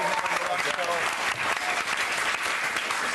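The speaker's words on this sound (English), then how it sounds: "Huge round of applause." A crowd claps steadily and enthusiastically, dense applause that stays loud throughout with faint voices mixed in.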